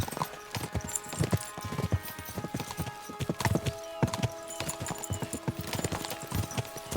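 Horses galloping in Kingdom Come: Deliverance II, a loud, steady run of close hoofbeats in quick repeating clusters, with a faint whinny and no talk.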